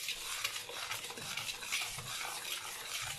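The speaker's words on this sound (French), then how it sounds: "je vais m'amuser à mélanger pour que ça devienne mousseux" Homemade ice cream mixture being stirred in a bowl to make it foamy, a continuous soft whisking and scraping rustle, close but quiet, with no talking.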